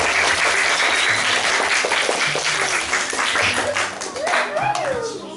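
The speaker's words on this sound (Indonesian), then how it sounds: "Yuk kita kasih tepuk tangan yang meriah" A crowd applauds loudly and steadily throughout, dense clapping that fades slightly toward the end, with a voice faintly underneath.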